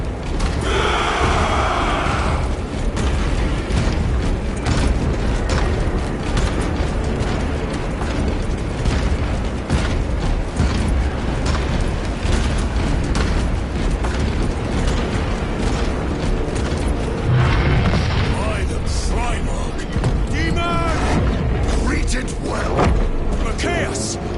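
Gunfire and explosions from the Space Marine video game, a dense, continuous battle din of rapid shots, mechanical clatter and booming blasts, mixed with shouted voices and orchestral-like swells.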